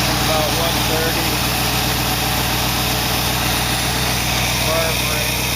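A 1914 engine idles steadily at about 130, with a fan running, giving a continuous low mechanical rumble and vibration that stays close and constant throughout, with no talking.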